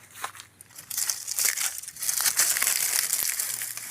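Dry dead leaves are crumpled and handled by hand in a vegetable garden in the Philippines, giving a close, steady crackling rustle in bursts with no talk.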